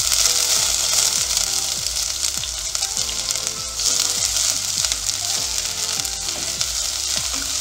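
Chopped onion fries in hot oil with mustard seeds, a loud continuous close sizzle broken by a repeating rhythm of scraping stirs and occasional crackles.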